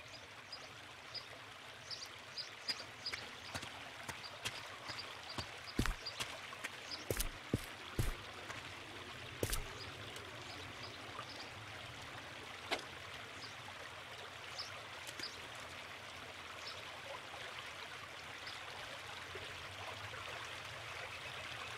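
River water flows steadily in the Kariba Dam area of the Ultimate Fishing Simulator video game, a soft continuous rush with scattered small clicks and splashes.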